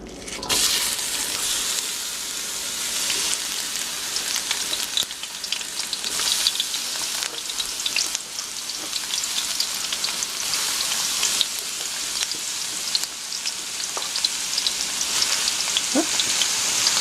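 Onions frying in canola oil in a wok over medium-high heat, a steady close hiss and crackle of sizzling that holds without a break, with a few brighter pops and spits rising above the wash.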